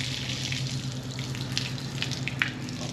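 Water runs steadily through a filter into a bowl, a continuous close splashing stream with a low hum beneath it, and faint bright spatters scattered through it.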